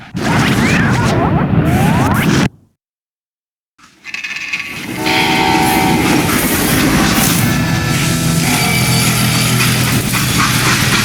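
In the video game Call of Juarez: Gunslinger, a loud, continuous rumble of a moving freight train with clattering and hissing, broken by a brief silence before the roar resumes with metallic tonal screeches.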